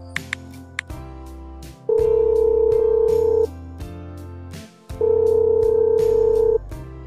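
A ringing phone in an animated cartoon, two long electronic ring tones with a pause between, preceded by button taps and music, loud and close, no one answering.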